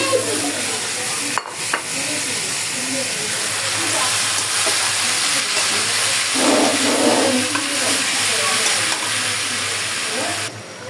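Mola fish chochchori with spice paste frying in a pan, a steady sizzle and hiss running throughout with a brief louder spatter midway, close and continuous.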